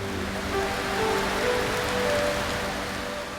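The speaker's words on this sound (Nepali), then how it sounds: "अर्कातिर झरीको निरन्तर प्रहार।" Steady rain pours continuously over Balkhu in Kathmandu, a dense even hiss of drops striking surfaces with no pauses.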